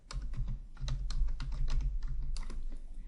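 Typing a book title on a computer keyboard, a quiet close run of quick key clicks in an uneven rhythm with no voices.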